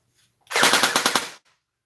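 An airsoft M4 rifle fires a short burst of several rapid, crisp pops, close and loud, lasting under a second before cutting off into silence.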